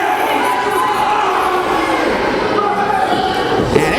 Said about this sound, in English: The crowd definitely trying to get behind the hometown